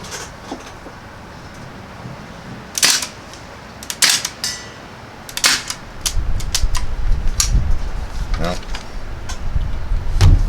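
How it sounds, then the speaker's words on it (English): Sharp, separate single shots from a Crosman R1 air rifle, each a crisp snap spaced a second or two apart, followed by a rising mechanical hum and clicks near the end. "We'll just do some single shots this time"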